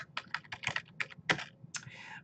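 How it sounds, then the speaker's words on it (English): Rapid, irregular keystrokes on a computer keyboard, close and clear, while a citation is typed for an MLA and APA formatting review; no voice is heard. "You see here what I am typing right now"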